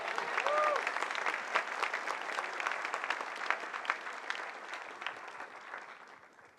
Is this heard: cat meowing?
no